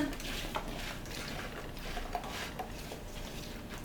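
A spoon scrapes and clinks against a bowl as potatoes are stirred with za'atar and sumac spices, with soft, irregular taps close by and no talking.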